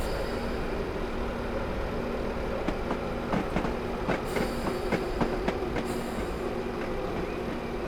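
A train rolls into a station platform in the Train Sim Classic game on the North Wales Coast Line, with a steady rumble and a run of rhythmic wheel clicks over rail joints, moderately loud.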